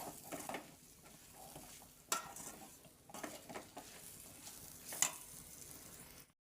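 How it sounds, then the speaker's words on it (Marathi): Masala spice paste fries in a pan for a Goan brinjal and potato baji, giving a soft steady sizzle broken by a few sharp scrapes and clinks of a spoon stirring against the metal, with no voices. "आतां मसालो मातशें भाजी दी"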